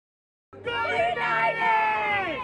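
New Mexico United soccer fans at Isotopes Park cheer and yell at the club's first home playoff game, a loud, dense crowd roar that rises suddenly from silence and holds.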